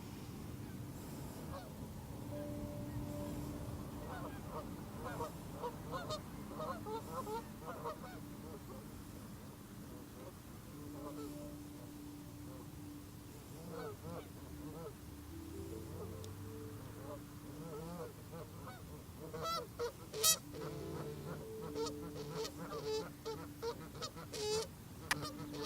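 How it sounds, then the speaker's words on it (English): Geese honking back and forth at each other outdoors, near a yoga class, with repeated nasal calls rising in the background while a person talks over them, the honks growing busier and louder toward the end. "I don't think those geese are talking very nicely to each other over there."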